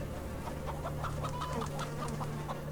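A chicken clucks in the video game ATOM RPG, a quick run of short, evenly spaced clucks over a steady ambient hum with no talking.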